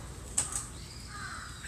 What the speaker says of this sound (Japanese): めっちゃカラスいるな、そこ。